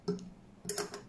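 A blade assembly is locked into the base of a quiet high-speed blender with interchangeable blades. It gives a few crisp, close plastic clicks in two short clusters, with silence between them.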